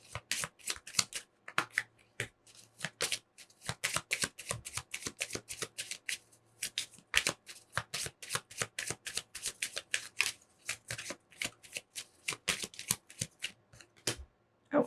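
Tarot cards are handled and laid face down for a reading, giving a rapid, steady run of crisp, close card snaps and flicks throughout, with no talking.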